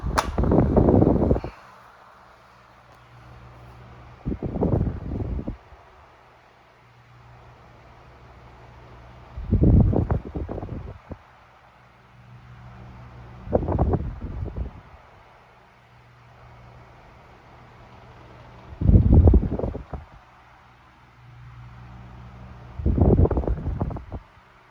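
A new-old-stock Sanyo 12-inch oscillating fan, model EF12SP3, hums quietly as it sweeps, with loud rushing gusts passing the microphone about every five seconds as the head swings back and forth.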